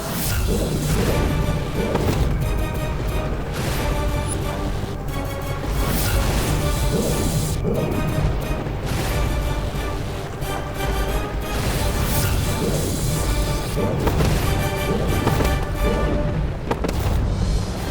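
Continuous loud rumbling and booming like repeated explosions, dense and unbroken throughout, mixed with crashing impacts and dramatic noise.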